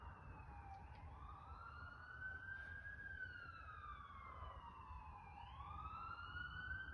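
Sirens wail in rising and falling sweeps over a steady traffic rumble from a busy street outside a home, fairly distant and continuous throughout.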